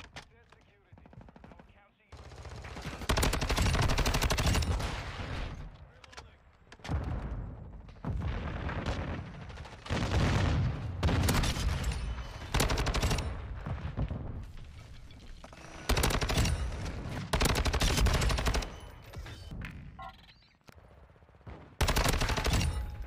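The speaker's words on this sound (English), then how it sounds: "Almost lost a gunfight there." An STB 556 rifle firing during a gunfight in Modern Warfare 2: loud, sustained automatic bursts repeat through most of the stretch with short pauses between them. Some talk can be heard faintly underneath.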